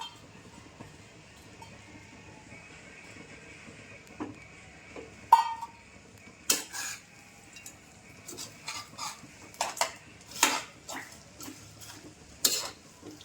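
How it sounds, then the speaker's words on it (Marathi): Bombil fish being mixed into a thecha by hand or spoon, scattered soft scrapes and clinks of utensil against a bowl in irregular bursts, a sharper knock partway through, otherwise quiet. "ठेच्यामध्ये पूर्ण मिक्स करून घ्यायचे ते"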